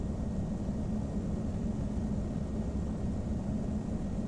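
A PA-34 Seneca V twin-engine airplane in the game FSX during its takeoff roll, with a steady, loud, low engine drone and rushing noise that holds constant throughout.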